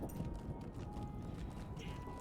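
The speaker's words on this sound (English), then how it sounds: "Let's hop on my old horse. I had a champion war steed." A champion war steed trots in Lord of the Rings Online near Minas Morgul, its hooves clip-clopping in a steady, quiet, even rhythm under a faint constant tone.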